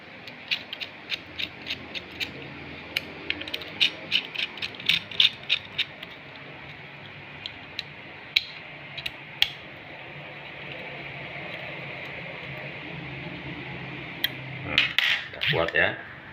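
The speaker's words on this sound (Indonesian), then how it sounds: "Ada dua baut ya untuk mengunci popor belakang." Two bolts are tightened to lock the rear stock of a tactical rifle accessory kit, giving quick clicking ratchet-like ticks in irregular bursts over a low background hum, ending in a brief rattle of handling.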